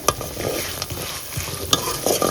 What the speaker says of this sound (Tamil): இதை நல்லா வதக்கி விடுங்க